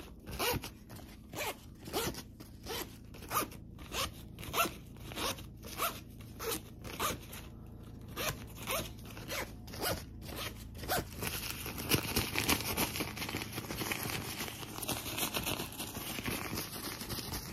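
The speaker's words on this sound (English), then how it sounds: "Zipper sounds with a little bit of airplane in the background." Repeated zipper pulls in a steady rhythm, close and crisp, giving way to a denser continuous zipping over a low background hum of airplane noise.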